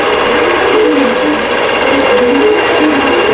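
An embroidery sewing machine stitches yarn onto a winter table runner, a loud, steady, fast mechanical whirring and rattling that runs without pause, close up, with no talking.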